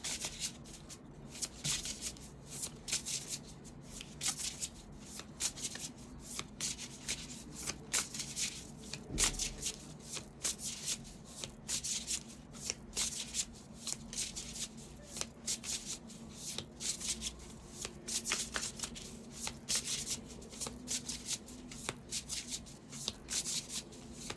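A tarot deck being shuffled by hand, brisk repeated riffling and card slaps in quick bursts, close and fairly quiet, with no one speaking.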